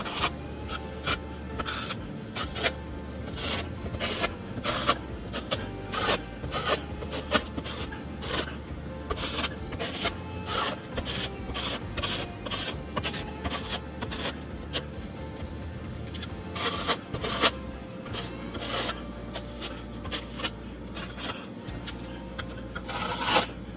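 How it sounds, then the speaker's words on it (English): Repeated rasping scrapes of a broad knife dragging compound across a wall, steady back-and-forth strokes close to the mic with no talking. "Take a broad knife"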